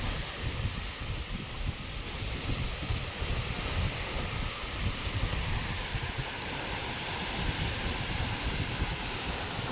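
Strong wind roars continuously, buffeting the microphone with a low, steady rush and no voices.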